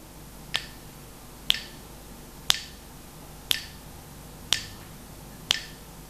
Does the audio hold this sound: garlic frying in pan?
no